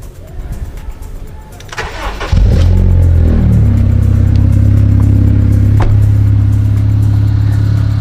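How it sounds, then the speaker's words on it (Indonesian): A Honda Civic FD1 Type-R cranks and fires up about two seconds in, then holds a loud, steady idle with a deep exhaust drone; a small tick sounds briefly over the running engine. "Untuk mesin ntar kita coba nyalain suara mesinnya dan kita dengerin sekalian suara knalpotnya guys."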